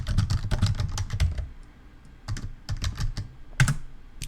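Computer keyboard being typed on at a desk, close and crisp: a rapid run of clacking keystrokes, a brief pause, then a second quick burst with one sharper key strike near the end.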